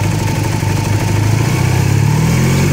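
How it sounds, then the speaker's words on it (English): Honda CB250N motorcycle engine revving loud and close, a steady mid-pitched exhaust drone that rises slightly in pitch over a few seconds, with no talk. "I'll try and rev the bike now."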